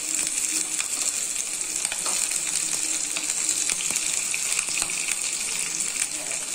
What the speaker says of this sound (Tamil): இப்போ நம்ம வந்து கடுகு பொரியுது